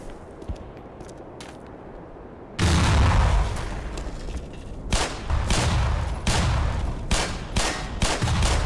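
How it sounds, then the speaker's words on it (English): A grenade blows up in the Black Mesa video game: a sudden, loud, close blast, followed by several more heavy booming bursts that sound like gunfire, with no talking. "I'm just gonna throw a grenade in that."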